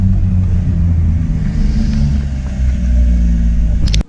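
A BMW E31 car engine runs steadily while driving, a loud, continuous low rumble with mild revving swells, heard close up with no voices.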